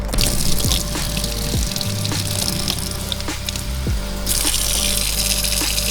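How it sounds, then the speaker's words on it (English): Tap water running into a spray bottle that already holds some dish soap, a steady gushing hiss with faint gurgles and occasional clicks, close and continuous. "I'm gonna go ahead and put some in this bottle and fill the rest with water"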